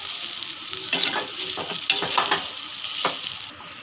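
Cumin powder and black pepper powder being stirred into a cutlet filling in a pan, a steady soft sizzle with several scraping strokes of a spoon, close and alone.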